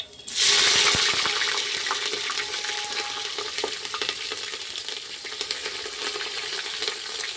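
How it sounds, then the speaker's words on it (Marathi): Chopped green chillies hit a hot pan for a quick vegetable pulao, bursting into a loud sizzle that settles into a steady, crackling fry with faint stirring clicks. "त्याच्यानंतर टाकायचे आपल्याला कापलेल्या हिरव्या मिरच्या"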